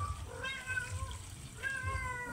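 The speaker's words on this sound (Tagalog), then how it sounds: "yung pusa, gutom na" A cat meows several times in short, rising calls, fairly close, over a faint background of running water.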